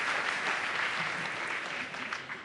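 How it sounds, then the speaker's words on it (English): Audience applause at a plenary session of a philanthropy forum held at Google, a short burst of steady, moderately distant clapping from a large hall crowd that fades slightly at the end. "A round of applause."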